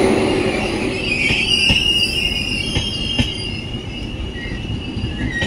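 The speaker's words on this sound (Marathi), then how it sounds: "तर आमची ट्रेन आलेली आहे" A holiday special train pulling into Sawantwadi station, its wheels squealing loudly and steadily over a rumbling rail bed, with scattered metallic clicks and knocks as the carriages roll close by.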